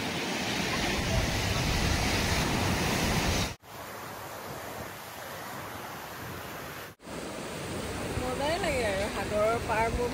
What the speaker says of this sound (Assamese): সাগৰৰ ঢৌৰ যিটো চাউণ্ড নহয় সেইটোৱে বহুত ভাল লাগে